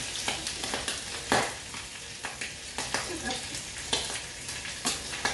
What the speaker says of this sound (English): So we'll just fry off that bacon a bit.